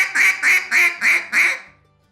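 A handheld duck call is blown in a quick cadence of five evenly spaced, loud nasal quacks, close and alone, mimicking several ducks calling at once before trailing off into quiet.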